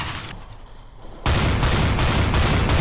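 Rapid gunfire in the video game CS:GO, a loud sustained burst of shots erupting suddenly after quieter game ambience and continuing to the end.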